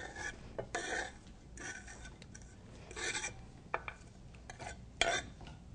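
Pork dumpling filling is stirred with scallions in a bowl, giving quiet, irregular scraping and rubbing strokes of a utensil against the dish, with no talking.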